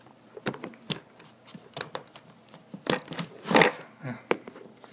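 The keyboard is pried out of a small mini laptop PC, giving a burst of close plastic clicks, snaps and rattles in an uneven rhythm.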